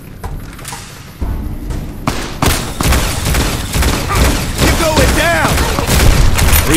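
Gunfire rattles in Fallout New Vegas, starting with a few scattered shots and then building into a loud, dense fusillade of rapid cracks and thumps that keeps going to the end, with game voices underneath.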